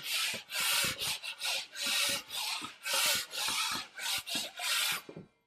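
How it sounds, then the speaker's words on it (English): A drywall knife rasps repeatedly across screw heads set with Durabond compound, a rhythmic series of short, loud scraping strokes in quick succession, then stopping. "scrape down all my screws just to make sure that any little bubble from the Durabond is gone"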